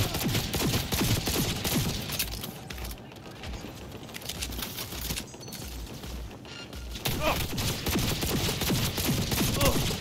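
Rapid bursts of automatic gunfire in Cyberpunk 2077, dense and loud, dropping briefly between volleys before resuming, with mechanical clatter and a voice speaking underneath.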